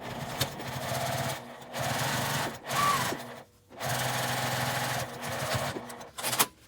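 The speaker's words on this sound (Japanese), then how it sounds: "ここに端ミシンをかけます。" A sewing machine edge-stitching the lining of a fabric zipper pouch, several close mechanical bursts of rapid needle chatter separated by short pauses, no voices.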